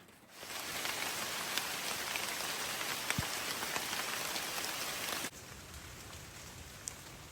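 Rain patters steadily on a hut deep in the forest, a dense close hiss of drops that thins abruptly to a lighter, quieter fall partway through, with no talking.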